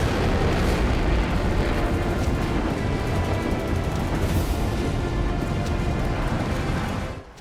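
Continuous heavy blasts and rumbling from an Iranian military exercise near the Natanz nuclear site, a loud dense roar with bursts layered on it for several seconds before cutting off abruptly.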